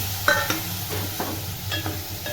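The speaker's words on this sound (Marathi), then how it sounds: "चांगलं हलवून घेते" Peas and carrots frying in a pan with tomato and whole spices, a steady sizzle under a few quick scraping strokes of a spoon stirring, close and clear.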